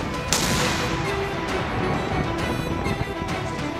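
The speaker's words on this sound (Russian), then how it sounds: "Орудие установили на деревянное основание и дали первый залп." A single loud test shot from a cannon mounted on a wooden base booms near the start, followed by a long rumbling, crackling echo that fades slowly.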